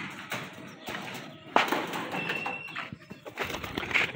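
Pigeons gathered at a feeding spot make soft, steady cooing and bird calls amid a busy rustling background, with a sharper burst of activity partway through; no talking.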